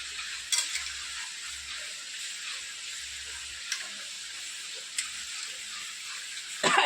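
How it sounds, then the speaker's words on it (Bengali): Red goat meat cooking slowly in a kadai over low gas gives a steady close sizzle and hiss, broken by a few sharp clinks of stirring. "খাসির মাংসটা আজকে না কি করে এই তোমার কড়াইতে আস্তে গ্যাস দিয়ে দিয়ে রান্না করা হবে"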